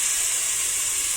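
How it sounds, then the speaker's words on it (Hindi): Chopped onion dropped into hot oil in a pan, giving a loud, continuous bright sizzle and hiss that holds steady throughout, with no talking. "गरम हो गया है, हम इसमें प्याज डाल देंगे।"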